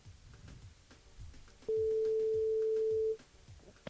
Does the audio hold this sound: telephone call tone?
yes